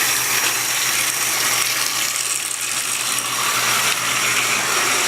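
Water runs steadily and loudly while grout is rinsed off freshly grouted tile, a continuous broadband splashing rush with no talk over it.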